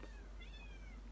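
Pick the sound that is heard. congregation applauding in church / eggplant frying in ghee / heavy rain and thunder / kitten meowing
kitten meowing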